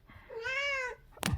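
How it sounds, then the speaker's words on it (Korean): A cat gives one clear, drawn-out meow close by, then a short rustle or thump, heard indoors during a tarot reading with no talk over it. "고양이가 올라와가지고 방해를 하는데"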